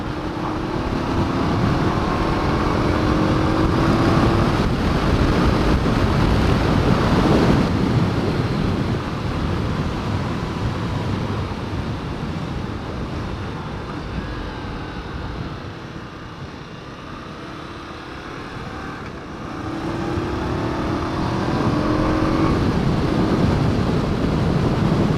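An Indian Scout cruiser motorcycle rides along country roads near a village, engine drone buried under heavy, steady wind rush, rising and falling slightly in level over the long stretch, with no talking.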